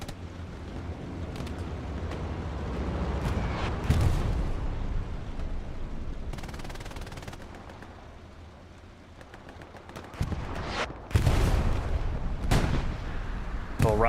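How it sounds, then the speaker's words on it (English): Rocket artillery explosions pound a Hell Let Loose competitive match, with a string of heavy booms and bursts rolling through continuous battlefield gunfire and rumble. Some hits land close and loud, others sound distant. "Rockets coming in from a very, very long fire shot away"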